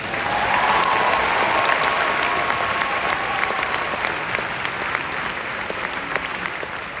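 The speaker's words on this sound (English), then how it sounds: "Now please applaud for our marshals" A large crowd at the Northwestern University Weinberg convocation ceremony applauds the student marshals, loud sustained clapping with a steady roar that slowly tapers over several seconds.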